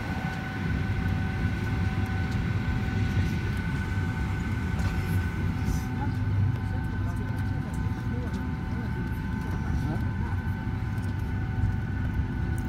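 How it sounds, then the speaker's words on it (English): Norwegian Boeing 737-86N(WL) being pushed back at London Gatwick, heard from inside the cabin as a steady low rumble and engine hum with faint tonal whines, while a voice talks over it. "All right, so we're pushing back."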